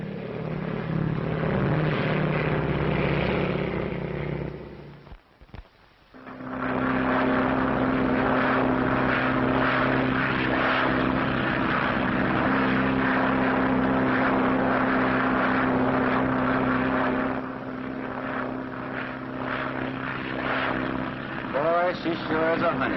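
A 1930s propeller airplane takes off and flies, a loud droning engine roar with a low rumble, cut by a brief pause, then a sustained drone with voices heard under it.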